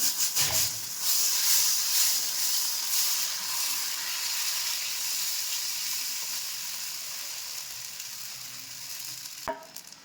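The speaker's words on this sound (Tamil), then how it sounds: "நம்ம தோசை ஊற்றிக்கலாம்" Dosa batter poured onto a hot pan for a ghee roast, giving a loud, close, steady sizzle that fades slowly over several seconds, with a brief knock near the end.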